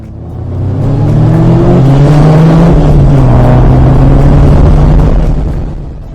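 A classic Formula Ford race car drives out at Cadwell on a roasting hot day, its engine swelling to a loud, close, sustained drone with shifting pitch, then fading slightly at the end.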